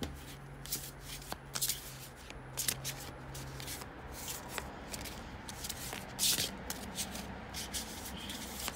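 A deck of thin oracle cards is riffle-shuffled several times, crisp fluttering bursts with soft taps and handling between them, close and fairly quiet, no talking.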